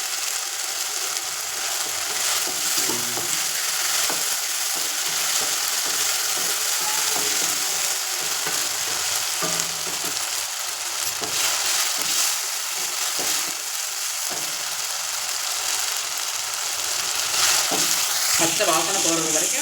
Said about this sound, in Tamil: பாதி சிக்கன் வறுக்க போகிறோம்